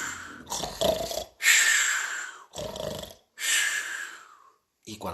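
A storyteller imitates people snoring, with several rasping in-breaths and snorts alternating with breathy exhales in a slow, uneven rhythm, close and alone.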